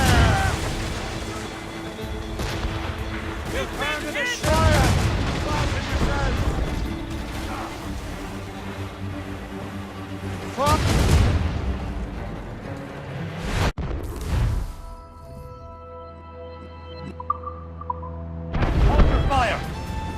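Naval cannon fire from a sailing warship in Assassin's Creed Rogue, heavy booms and crashes breaking out several times amid game music and a rumbling sea, with someone talking over much of it.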